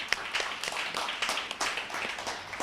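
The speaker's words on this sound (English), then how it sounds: "Let's give a round of applause" Audience applause at a panel event on HBCUs, a steady wash of many hands clapping at moderate distance, fairly quiet and continuous without talk.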